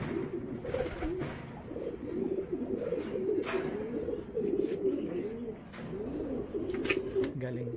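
Pigeons in a loft cooing continuously in soft, rolling, throaty phrases, with several birds overlapping nearby and occasional wing flaps and knocks. Faint talk is audible in the background.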